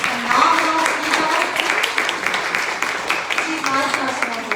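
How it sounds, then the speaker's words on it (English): Sustained audience applause for Director Porter at a public-safety discussion, a dense, steady wash of clapping that fills the whole stretch at moderate loudness, with a faint voice underneath. "Please give her a big round of applause"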